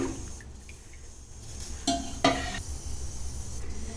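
Soft scraping and stirring of fish curry in a pan with a faint sizzle, plus a couple of light clinks from a utensil against the pot.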